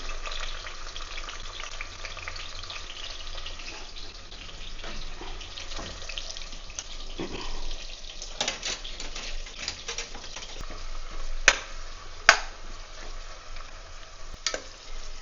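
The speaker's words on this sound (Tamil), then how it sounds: "அதை சேர்த்துக்கிறேன்" Sliced large onions frying in a pressure cooker while making chicken biryani hiss in a continuous soft sizzle, with a few louder crackles and spatters toward the end, close by and fairly quiet.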